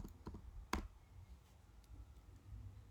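Typing on a computer keyboard to enter a word into a new text file in a code editor, heard as a few faint, scattered key clicks with one sharper tap, against a quiet room background.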